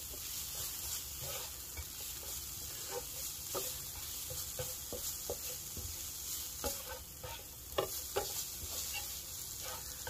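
Cauliflower rice frying in a pan while being stirred, with a steady bright sizzle and repeated scraping clicks of the utensil against the pan, close and continuous with no talking.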